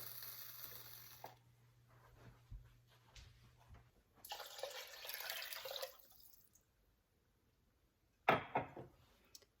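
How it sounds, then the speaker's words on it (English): Water is poured into a cooking pot of rice for an Ayurvedic dish, making a steady splashing pour that stops, resumes for a couple of seconds, then ends with a short louder splash near the end; no talking. "And I'm going to add water,"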